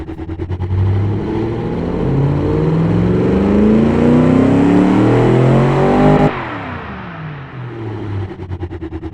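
A V8 car engine in the BeamNG driving game revs up through rising pitch for several seconds, then cuts off and drops to a throbbing idle, loud and close with no talking.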